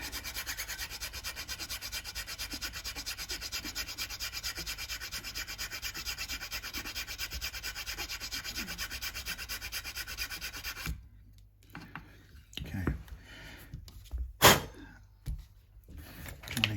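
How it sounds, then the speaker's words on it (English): Sandpaper rubbing the edge of a Squier Stratocaster guitar nut, a steady close scratchy rasp for about eleven seconds, then a few soft handling knocks and rubs. "just softening off this edge of the nut"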